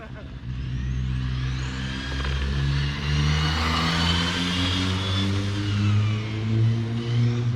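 RC car motor revving, likely a King Motor Explorer or Arrma Felony with a high-kv brushless motor, giving a sustained mid-pitched whine with rising and falling harmonics that stays loud and close throughout.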